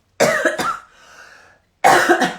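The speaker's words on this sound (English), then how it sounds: "Oh, I'm going to cough again." Two loud, close coughs ring out, a brief rough throat sound follows, then another hard cough, with no talking.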